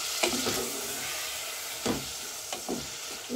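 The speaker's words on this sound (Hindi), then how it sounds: "तो ये मैं कर रही हूँ चिकन को फ्राई" Chicken frying in a pan for spicy chicken macaroni: a steady hiss of sizzling oil with occasional sharp crackles and stirring clatters, close up, with no talking.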